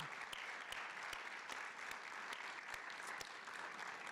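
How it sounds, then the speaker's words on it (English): Quiet, distant applause from an audience at a tenure and retirement celebration, a thin steady patter of clapping with a few sharper individual claps standing out. "let's applaud for Alicia"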